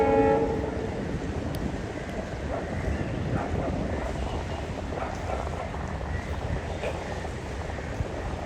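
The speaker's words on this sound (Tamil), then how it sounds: "நம்ம கரெக்ட்டா வீடியோ எடுத்துக்கிட்டு இருக்கும்போது ஒரு ட்ரெயின் வருது." A train crossing the Pamban bridge over the sea, a steady low rumble with wind buffeting the microphone throughout and faint talk in the background.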